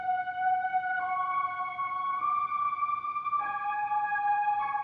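A saw wave synth melody processed with the Unison Sound Doctor plugin: a bright, thick sustained lead stepping through a few long held notes, with a steady dense texture underneath and nothing else around it.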